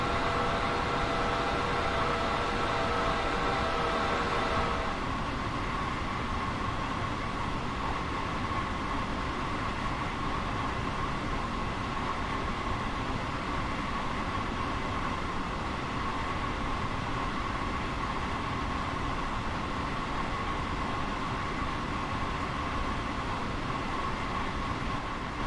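A Long Island Rail Road train in Train Sim World runs with a loud, continuous rumbling roar and a higher whine that cuts out after about five seconds, leaving steady broadband track noise with no talk.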